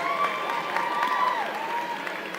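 Moderate audience applause at a nurses' awards ceremony for the Critical Care Nurse of the Year, a steady wash of clapping with faint cheering, somewhat distant and soft.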